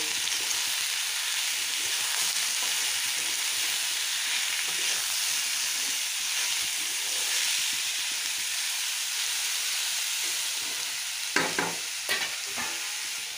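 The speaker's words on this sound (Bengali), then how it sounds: "এখন এটা একটু সাঁতরিয়ে নেব" Ash gourd pieces with turmeric and salt fry in a pan with a steady, bright hissing sizzle, close and even, with a few brief stirring scrapes near the end.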